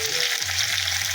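Capsicums fry in a hot pan as home cooking goes on, giving a steady, close sizzle with a soft crackling hiss and no voices.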